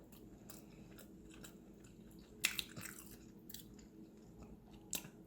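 Someone eats oxtail at an African restaurant, chewing quietly close by with soft wet squishes and a couple of sharper crunchy bites, no talking over it.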